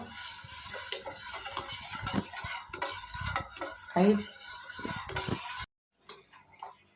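A spoon scrapes and clinks around a pot as custard powder mixed with half a litre of milk is stirred over heat until thick, close and irregular with soft bubbling beneath, ending in a short silence.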